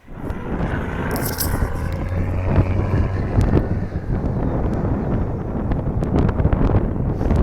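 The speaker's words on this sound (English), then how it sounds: "It's super windy." Strong wind roars steadily and loudly throughout, buffeting the microphone with a constant low rumble and occasional gusty bursts.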